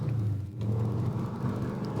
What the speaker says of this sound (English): Why is there such a loud car right now?